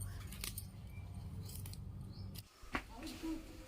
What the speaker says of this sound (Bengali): এখন আলু শাক কাটছি